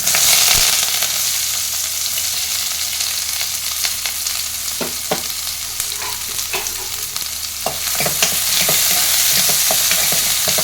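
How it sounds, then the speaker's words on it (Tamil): Sliced onions fry in a hot pan with mustard seeds, giving a constant close sizzle broken by repeated scraping and clinking as a spoon stirs them, with no talk. "வெங்காயம் நல்லா ஃப்ரை பண்ணிக்கலாம்."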